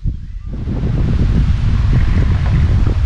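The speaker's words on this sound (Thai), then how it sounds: "ฟังเสียงลมนะครับลมแรงมากเลยครับหมายนี้" Strong wind roars across the microphone beside the Li River at a spearfishing spot, a loud, steady rushing buffet that fills the whole moment.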